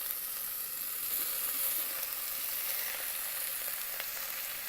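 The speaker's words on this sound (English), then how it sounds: "fry for 10 seconds" Tomato and chayote fry in a hot pan with red chili flakes and cumin, giving a steady, close, continuous sizzle with a faint crackle and no voices.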